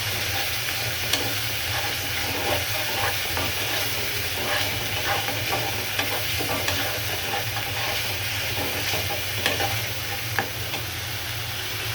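Fish masala sizzles and spits loudly in a hot pan while a spoon stirs it, a dense continuous frying hiss with small scraping knocks throughout, close up, no voices.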